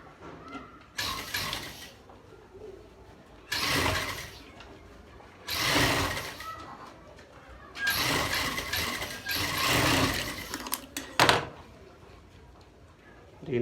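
Sewing machine stitching a baby girl's suit, running in several loud bursts of a few seconds each with short pauses between, close up and alone.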